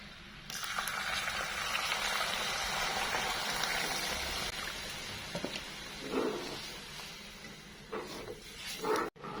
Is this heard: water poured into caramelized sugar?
yes